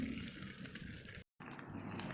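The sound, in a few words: molten wax boiling on a ZVS induction heater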